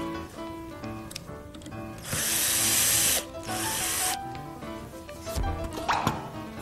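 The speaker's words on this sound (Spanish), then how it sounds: "vamos a perforar la placa y vamos a colocar un tornillo" A power drill bores through a laminated furniture board in two loud sustained bursts of about a second each, with a quieter whir between them and a brief knock near the end, over a faint background with no talk.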